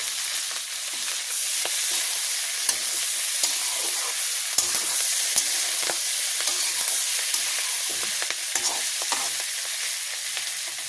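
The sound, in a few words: green chillies frying in a pan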